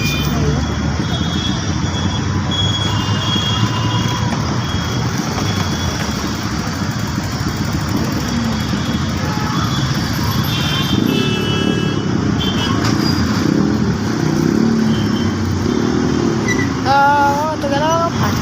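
A rough, harsh-sounding motorbike or car engine runs loud and steady on a busy road, with traffic rumbling throughout and a brief rise as it passes close.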